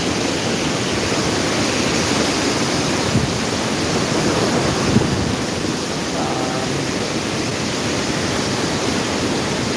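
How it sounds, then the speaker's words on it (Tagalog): Strong typhoon wind sweeps through coconut palms in Bicol, Camarines Sur, a steady loud broadband roar that holds without pause, with a faint whistle rising briefly near the end. "Sumisipol na guys ang hangin dito sa Bicol"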